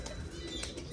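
Pigeons flap their wings in flight over a rooftop, soft rapid clapping bursts that are faint and brief against low background noise.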